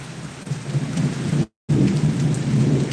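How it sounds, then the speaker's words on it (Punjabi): Heavy rain pours steadily with a deep, rumbling thunder-like roar underneath, briefly cut by a moment of silence midway. "ਮੀਂਹ ਹੈ ਜੀ ਕਾਫੀ ਜ਼ਿਆਦਾ ਤੇਜ਼ ਪੈ ਰਿਹਾ ਜੀ ਤੇ ਬੱਦਲਾਂ ਨੇ ਨਾ ਡਰਾਇਆ ਪਿਆ ਜੀ ਇਹਨੇ ਜ਼ੋਰ ਜ਼ੋਰ ਕੇ ਗਰਜ ਰਹੇ"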